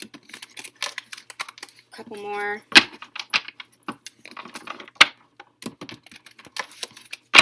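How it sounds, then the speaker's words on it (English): Quick riffling and snapping of a tarot card deck, a couple of brief shuffles with crisp flicks, close up, while someone talks over it. "Just a couple quick shuffles."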